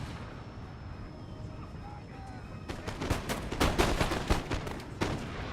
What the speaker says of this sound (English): And I see that the rifle will open fire.